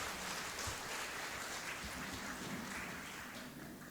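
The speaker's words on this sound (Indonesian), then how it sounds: "Mari sekali lagi kita beri pujian dan kita aplaus anak-anak kita." A church congregation at a Christmas service applauding children's praise songs, a soft, steady patter of clapping from many hands heard at a distance, fading slightly toward the end.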